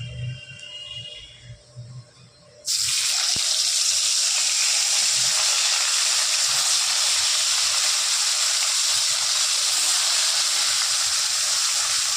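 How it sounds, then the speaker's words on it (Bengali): Fish fry in hot oil, starting with a sudden loud, steady hiss that rushes on unbroken after a quieter opening, close and dominant. "এবার এই তেলে বাকি মাছগুলো ভেজে নেওয়া হবে।"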